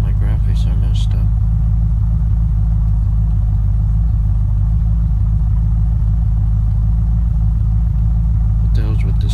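A car engine drives in the video game Unturned, giving a steady, loud, low rumbling drone that holds throughout with little change in pitch.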